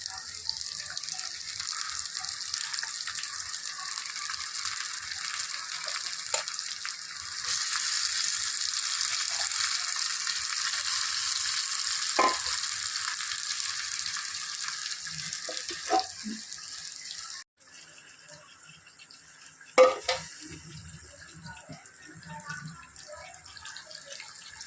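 Chicken goes into a pan of sizzling seasoning for a home-style chicken curry, a broad steady frying hiss with occasional scraping stirs, then a brief quieter stretch and a clatter near the end.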